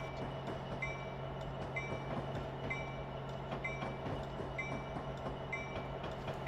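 A Metra train led by an SD70MACH locomotive in the Train Sim Classic game, with six cars and two engines, gives a steady rumbling engine drone and periodic rhythmic wheel clicks over rail joints.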